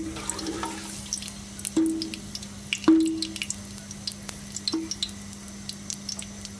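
Five or six green cardamom pods drop into hot oil and sizzle. Soft crackling runs under a steady hum, with a few sharper splashes and clinks, and no voice.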